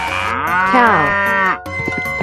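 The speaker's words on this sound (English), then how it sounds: "Cow." A cartoon cow in a 3D animal slide game gives one long, loud, drawn-out moo that bends in pitch before cutting off, followed by faint game sounds.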